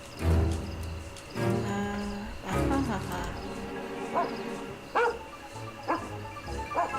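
Dog barks and yips from a Sherlock Holmes video game, several short bursts scattered across the stretch, mixed with game music and talk.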